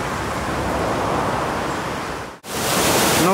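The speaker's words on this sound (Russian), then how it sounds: "Водопад Вину — самый высокий водопад в Европе." Vinnufossen, a very tall waterfall in Norway, pours as a loud, dense, continuous roar of rushing water, briefly cut off by a short gap before the same heavy rumble resumes.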